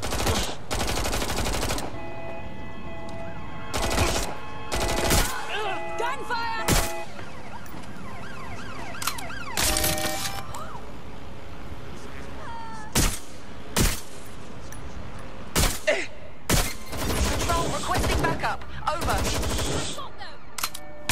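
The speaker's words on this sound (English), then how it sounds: "Shots fired." Gunfire in the video game Watch Dogs: Legion, with rapid bursts of loud shots and automatic fire scattered across a chase, alongside wailing sirens and occasional game sound effects.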